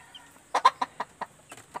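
A hen on a backyard poultry farm clucks in a quick series of short, close calls, moderately loud, with no talk over them.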